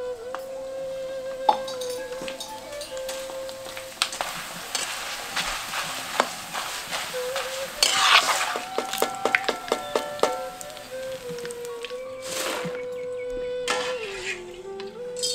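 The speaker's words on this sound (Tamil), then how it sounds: "பேல் பூரி செய்யறதுக்காக 50 கிராம் சோள அவலை எண்ணெயில பொரிச்சு எடுத்துக்குவோம்." Corn flakes (poha) fry in hot oil in a pan for bhel puri, giving a crackling sizzle with scattered clinks and stirring scrapes, loudest midway as the flakes puff and crackle.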